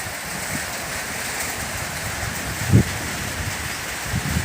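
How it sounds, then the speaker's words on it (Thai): Steady rain falls outdoors, a continuous close hiss of drops on surfaces, with a brief louder thump near the end and no voices. "ฝนลงเม็ดแล้วนะครับท่านผู้ชม ฝนลงเม็ดแล้ว"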